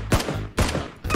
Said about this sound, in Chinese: 左边有枪声